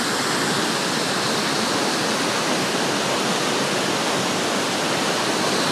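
Great Falls waterfall in Paterson, New Jersey, roars as a steady, loud, broadband rush of falling water, continuous and unbroken with no voices over it.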